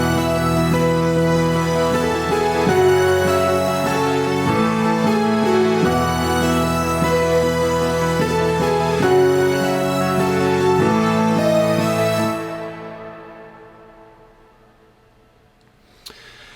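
Keyboard playing the intro of a song, sustained chords shifting in a slow steady pattern, loud and full, then fading into a long decay with a faint click at the end.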